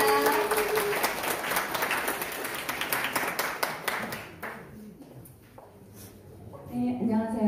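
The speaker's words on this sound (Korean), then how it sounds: "큰 박수 부탁드립니다." An audience at a Korean association's inauguration ceremony gives loud, dense applause to welcome a flute ensemble; the clapping thins out and fades, then a voice begins speaking.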